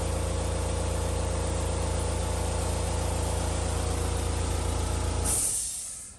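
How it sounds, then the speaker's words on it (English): An air compressor runs loud and steady nearby with a constant motor hum and pump drone, then cuts off abruptly with a brief hiss of released air. "And there's my air compressor filling."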